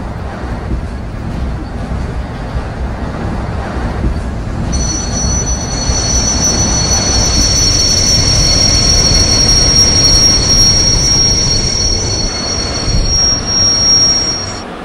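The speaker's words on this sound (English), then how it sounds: "So this train will go reverse." A train in a train simulator game rolls in reverse with a loud, continuous rumble, and a sustained high wheel squeal joins partway through and holds to the end, no talk.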